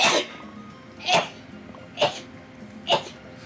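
Four sharp, explosive sneezes recur roughly a second apart, fairly close and loud against a quiet background, each a quick burst that fades away quickly.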